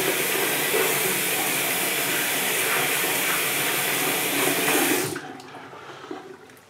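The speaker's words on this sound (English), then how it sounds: "let me wash my hands off." Water runs steadily from a tap as hands are washed before shaving, a constant rushing splash that cuts off abruptly near the end, leaving quiet room sound.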